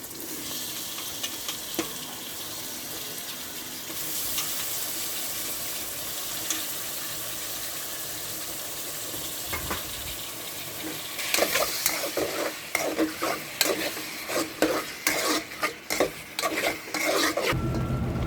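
Chicken fries in a pan after turmeric goes in, giving a steady sizzle while a utensil stirs it, with loud clattering scrapes that grow busier toward the end.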